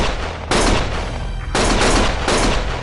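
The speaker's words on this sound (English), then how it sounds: "Stop shooting!" Heavy gunfire from the video game Lost Judgment: loud sustained bursts of rapid shots in two or three long volleys with brief gaps between them, close and dominant, with no talk over it.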